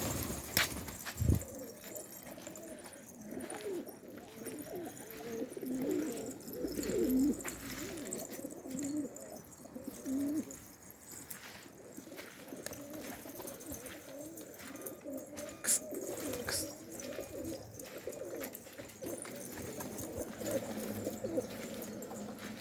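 Soft, low pigeon coos repeat throughout, murmuring at a moderate distance under faint background noise.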